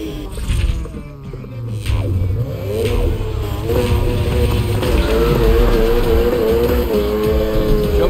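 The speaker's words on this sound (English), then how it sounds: "Slam on the gas to initiate" A race car in the Need For Speed Heat video game revs and accelerates hard off the start line, its engine note climbing loud and steady with brief tire squeal, filling the whole stretch without talk.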